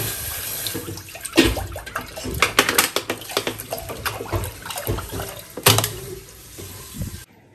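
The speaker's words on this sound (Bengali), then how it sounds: "দুধের বোতলটা ধুয়ে দিল" A milk bottle is rinsed under a running tap, with close splashing and gurgling water, bursts of sloshing and knocks against the sink, before the flow cuts off abruptly.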